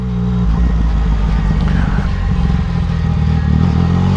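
A Yamaha MT-09 motorcycle engine pulls in second gear, a loud steady close growl with a throbbing low rumble and wind noise throughout.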